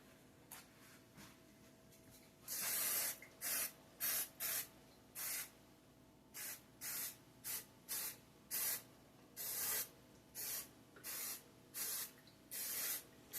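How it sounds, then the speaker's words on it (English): Repeated short bursts of aerosol cooking spray hiss close up onto a baking pan, a quick series of sprays with brief pauses between them. "Next step, you need to spray it and flour it."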